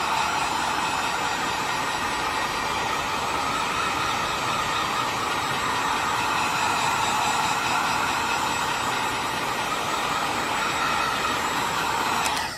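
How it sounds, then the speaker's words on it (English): Heat gun blowing loudly and continuously at close range while warming the adhesive backing on a Toyota RAV4 pedal cover, a steady rushing whoosh with no pauses. "we're gonna warm up the adhesive on this, the heat gun"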